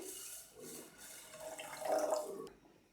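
Water is poured into a pot of frying chicken mince for soup, a short gushing splash that swells to a peak and then tapers off, close and soft, with no talking.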